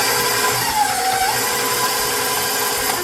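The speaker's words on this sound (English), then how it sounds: "we beat the butter and the sugar for about 2 to 3 minutes" Stand mixer with a paddle attachment beating butter and sugar, a loud steady motor whir with a constant pitch running throughout, close up.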